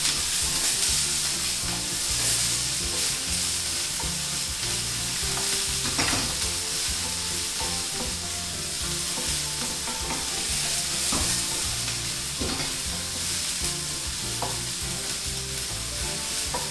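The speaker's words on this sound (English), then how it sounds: "once the oil is hot, add in your finely chopped onions. You just kind of want to stir it around" Finely chopped onions fry in hot oil for a shrimp risotto, with a steady crackling sizzle that runs the whole time and scraping stir strokes now and then. No one speaks.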